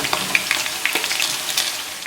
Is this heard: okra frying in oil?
yes